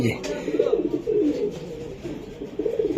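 Racer pigeons coo in a low, repeated rolling murmur, fairly close, with several overlapping calls through the clip and a voice briefly in the background.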